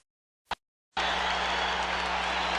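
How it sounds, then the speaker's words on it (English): A boxing arena crowd at a heavyweight title fight rises and cheers after a round, with a sudden dense roar that sustains loudly and evenly after a brief sharp knock. "The crowd standing on its feet here"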